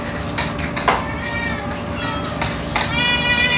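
Angry pet cat meowing indoors, a few strained, drawn-out meows of moderate loudness over a steady low background hum.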